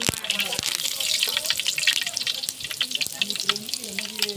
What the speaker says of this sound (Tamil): நல்லா பொரியுது கருவேப்பில்